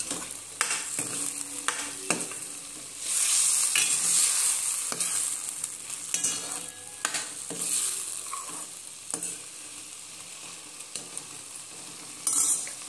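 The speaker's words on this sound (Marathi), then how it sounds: "आता यामध्ये आपण आपले फ्लावर घालू. सोबत फ्राय केलेले बटाटे छान मिक्स करून घेऊया." Cauliflower and fried potatoes being stirred together in a hot pan, a continuous sizzle with repeated scraping strokes of a spoon and occasional metallic clinks, close and fairly quiet, no voices.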